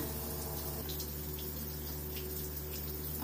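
Shower water running steadily in a home bathroom, a constant even hiss of spray with a low hum beneath, no voices.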